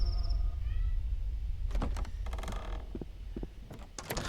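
A cat gives a few short meows early on, followed by scattered clicks and knocks over a low steady hum, with no talk.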